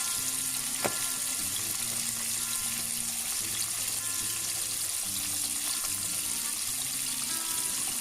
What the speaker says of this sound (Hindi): अच्छी तरीके से कोट करके उसको और फिर हमने फ्राई करेंगे